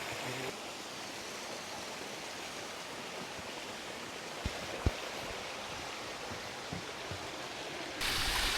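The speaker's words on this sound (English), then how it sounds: "now I have come to Jibi waterfall." The Jibi waterfall in Himachal roars as a steady, broadband rush of falling water, constant and fairly close, with a few faint knocks and footsteps and a brief louder swell at the end.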